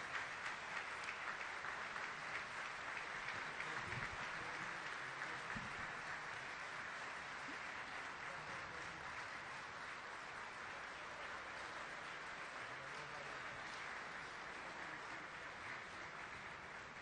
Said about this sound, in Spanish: Celebramos la firma del convenio con un fuerte aplauso.